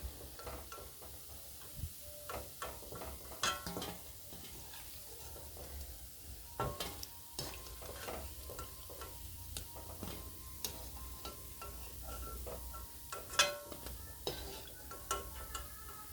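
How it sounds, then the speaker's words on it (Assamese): Tal bora, palm fruit fritters, fry in hot oil with a continuous soft sizzle, broken by irregular ticks, taps and stirring clatter close by. "আৰু মোৰ এইখিনি বৰা ভজা হৈ গৈছে।"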